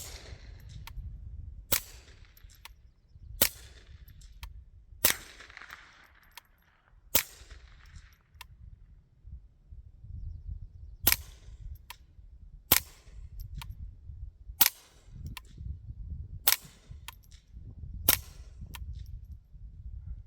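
Suppressed shots from a short-barreled .22 rifle fitted with a Faxon suppressor, firing supersonic and subsonic rounds: about a dozen sharp cracks spaced every one to two seconds, some louder than others, over low outdoor rumble.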